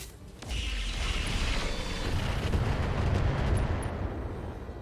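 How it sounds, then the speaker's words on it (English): Rockets fire in the RogueTech video game as a sustained, heavy rumbling roar. It starts abruptly after a brief quiet moment and stays loud and dense for several seconds before easing slightly. "We're going to fire the eye rockets."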